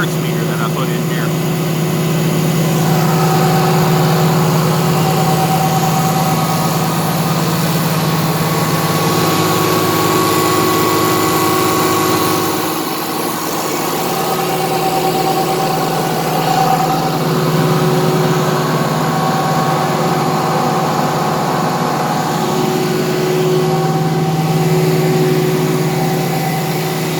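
A small zero-emissions generator runs steadily, giving off a continuous, even hum with several layered tones that holds at the same loud level throughout, with no load applied.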